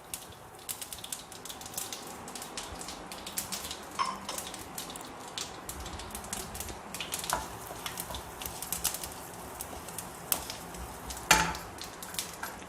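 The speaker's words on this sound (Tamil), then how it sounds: "இதில் நான் கடுகு போட்டு தாளிச்சிடுறேன். கடுகு பொரியறப்போ நம்ம பெருங்காயத்தூள் போட்டுக்கலாம்." Mustard seeds spluttering in hot oil in a pan, tempered for a South Indian moor kuzhambu. A dense, continuous stream of small crackles and pops comes through at moderate loudness, with no voices.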